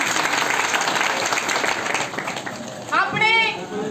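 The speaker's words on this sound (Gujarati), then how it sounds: "એક વાર તો એના માટે તમે તાળીઓ વગાડો" An audience at a community speech gathering claps together in a steady wash of applause, moderately loud, with a voice speaking over it near the end.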